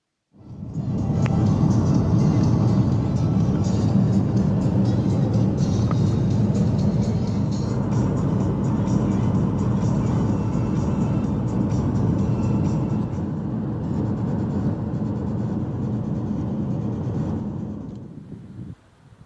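A car drives along a road on New Zealand's South Island, giving a steady, loud interior rumble of engine and road noise with some wind that holds evenly throughout and eases slightly near the end.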